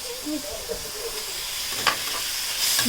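Onion and tomato frying in a pan for paneer schezwan gravy: a steady soft hiss and sizzle with occasional small clinks, faint household sounds in the background.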